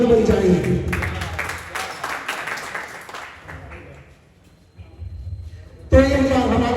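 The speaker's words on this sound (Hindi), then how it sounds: "आप तालियां बजाकर हौसलों को हवा देते रहें।" Audience applause fills a college farewell and honour ceremony for a professor, a dense round of clapping that fades out, followed by a short pause and someone speaking over a microphone.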